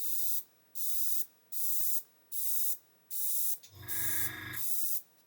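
Gaahleri Mobius 0.2 airbrush sprays in six short, even bursts of airy hiss, each about half a second, close and clear, separated by brief silences, with a low buzzing compressor hum joining near the end.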